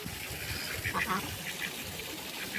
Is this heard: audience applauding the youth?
no